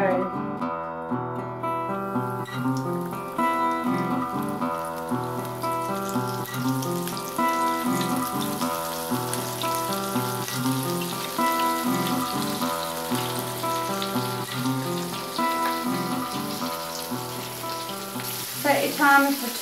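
Chicken tenders made with thigh fillets sizzle and crackle steadily in hot oil, a dense, continuous fry with a faint regular pulse underneath and a brief clatter near the end.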